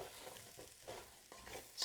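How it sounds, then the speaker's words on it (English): Onions, celery and carrots sautéing in a soup pot while being stirred, giving quiet intermittent scrapes and soft sizzling bursts close by, with no voices. "Stir this around and just let the onion get soft"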